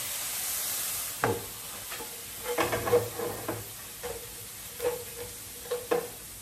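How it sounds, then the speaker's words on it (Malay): Tomato ketchup stirred into a sizzling frying pan, with a steady frying hiss under a few scraping, clattering spoon strokes spread across the moment and no talk. "saya campurkan sedikit kicap tomat"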